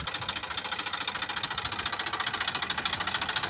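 A tractor engine runs steadily during wheat threshing on a farm, its rhythmic knocking pulse close and continuous throughout, with no voices.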